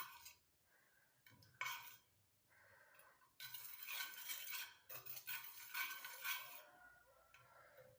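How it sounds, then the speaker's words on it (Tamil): A spoon stirs a homemade hair dye mixture in a container, with scraping, clinking strokes that come in bursts separated by short pauses. The sound is close and moderately loud, with no talking. "இது நல்லா கலந்து விட்டுட்டு ஒரு பவுலில் வந்து மாற்றிக்கலாம்"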